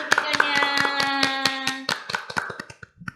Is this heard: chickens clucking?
no